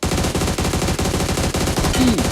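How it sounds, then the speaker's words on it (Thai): Rapid automatic gunfire in the PUBG video game, a loud, continuous burst of evenly spaced shots with a brief high whine near the end and no talking over it. "มันยิงผมไม่โดนเลย"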